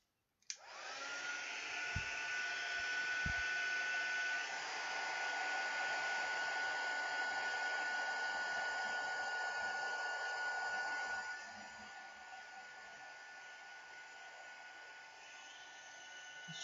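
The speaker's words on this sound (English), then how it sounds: "We're going to go in with a heat gun" Heat gun blowing hot air in a crafting setting: a steady whooshing roar with a thin whine that starts abruptly after a click and a few knocks, then drops to a lower level near the end, with no voices.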